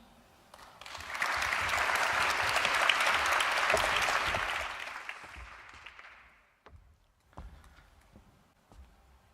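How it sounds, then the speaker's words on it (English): An audience at a pitch night in Helsinki breaks into warm applause, a dense steady clapping that swells for several seconds and then fades into a few scattered claps. "Give a warm round of applause to Milos Mladenovic."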